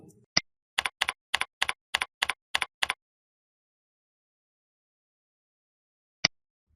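Computer keyboard keys tapped in a quick burst of about nine even, crisp clicks, with one more isolated click a few seconds later in an otherwise silent room.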